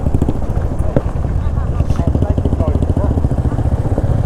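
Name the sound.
Royal Enfield motorcycle riding on steep road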